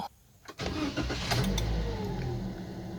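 A Daihatsu Sigra car engine cranks briefly, catches and starts, then settles into a steady, fairly loud idle close by, with no talking.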